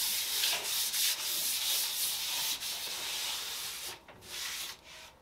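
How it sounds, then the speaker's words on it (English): Sanding a wooden dresser, a steady close abrasive rubbing with short strokes that briefly pause and resume near the end, heard alone without talk. "I'll sand that back and then put primer on"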